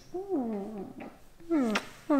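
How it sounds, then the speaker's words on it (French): A cat gives three distinct meows, each a rising-then-falling harmonic cry, close by and fairly loud with short pauses between them, in a quiet indoor room. "un minou qui débarque"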